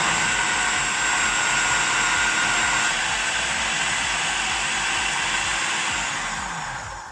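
A blender grinds coriander leaves and spices into a sauce paste, a loud, steady whirring roar held close up for several seconds before easing slightly at the end.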